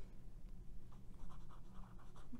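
Faint, soft scratching of a Pelikan M400 fountain pen with a fine nib gliding across paper, quiet and close with no talking.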